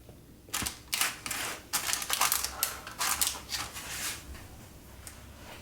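A heated knife slices through a white Kinder Bueno cheesecake, making a series of soft crunches and crisp scraping clicks in uneven bursts, close and quiet with no voices.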